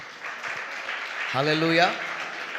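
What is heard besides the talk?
applause for Jesus at a night prayer meeting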